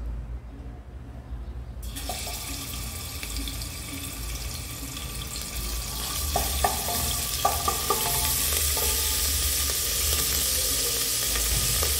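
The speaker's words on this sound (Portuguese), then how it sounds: "Agora eu vou colocar o alho aqui para dourar." Garlic hits a hot pan and starts to brown, breaking into a loud, steady sizzle that continues with a few crackles and pops, close up and with no talking.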